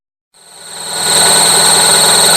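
A rebuilt 450 engine with new head gaskets starting up and running, its steady rumble and whine swelling from silence within a second to a loud, even hum.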